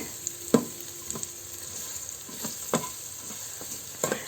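Sliced onions hit a hot pan with sponge gourd, sotanghon and crab cooking, giving a steady close sizzle broken by a few sharp clinks and stirring knocks.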